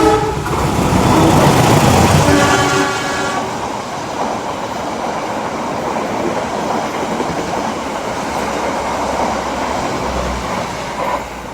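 An economy-class passenger train on the Airlangga line rolls along the rails with a loud, steady rumble and rattle, a sustained horn-like tone sounding near the start before the running noise settles in.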